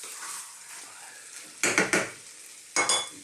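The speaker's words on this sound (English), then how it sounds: "Let's just cook that for about 3 minutes, just like that, stirring often." A pot of vegetable chili sizzles softly while a spoon stirs it in a few quick scraping strokes. The stirring comes in two short bursts, close and fairly loud, and no one talks.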